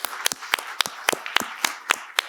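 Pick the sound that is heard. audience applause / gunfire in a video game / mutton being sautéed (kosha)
audience applause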